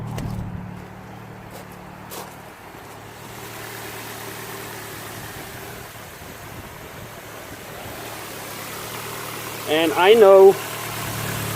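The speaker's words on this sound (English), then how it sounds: "the engine's still revving quite high." Ford Focus 1.6 petrol engine running lean, idling high and rough as a steady low drone heard from nearby, with a brief spoken phrase near the end.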